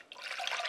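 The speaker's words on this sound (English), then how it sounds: "we're going to take a saucepan, add the rest of the apple juice" Apple juice poured into a saucepan, a steady liquid splash and trickle building within the first second, close and moderately loud with no talking.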